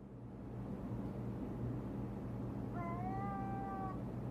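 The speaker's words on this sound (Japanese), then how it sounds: "おい、あの時の猫がいるぜ。" A single drawn-out meow from a cat in Ghostwire: Tokyo rises over a steady low ambient hum near the end, clear and moderately close, with no speech.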